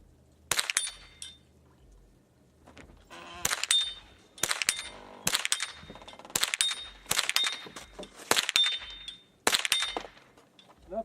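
Rifle shots striking a Plink Star steel dueling tree target, a series of about nine loud, ringing metallic impacts spaced roughly a second apart, each with a bright, sustained clang.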